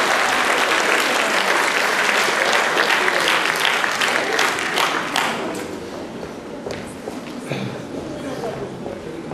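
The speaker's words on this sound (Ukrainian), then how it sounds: "Оплески!" Audience applause fills a hall at a creative evening, dense sustained clapping that stays loud for several seconds and then gradually thins.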